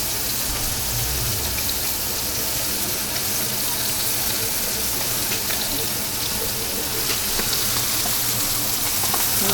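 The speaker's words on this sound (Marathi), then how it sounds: "मस्त फ्राय होते मच्छी तुम्ही बघू शकता" Kandeli fish frying in a pan over a gas flame, a dense, steady crackling sizzle that fills the whole stretch without pause, close and fairly loud.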